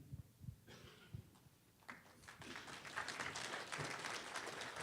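An audience applauding after a leadership scorecard presentation, with scattered claps at first that build into steady, fairly distant clapping.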